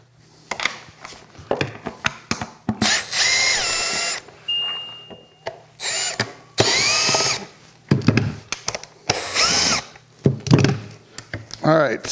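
A power drill unbolting the plywood work top of a Milwaukee Packout: short bursts of whirring drill motor with rising and falling pitch, separated by clunks and handling knocks, close up, with a voice speaking between bursts.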